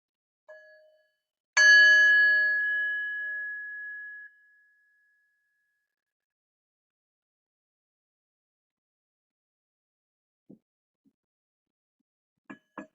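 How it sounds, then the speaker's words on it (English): A single meditation bell in a gentle Kripalu yoga session is struck once, its clear ringing tone sustaining for a few seconds and fading into silence, followed later by a few faint taps. "taking the sound of the bell, following it to the end"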